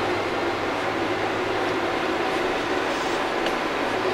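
A Shinkansen bullet train in the Trainz railway simulator, a steady loud rushing roar of wheels and air, constant and close with no breaks.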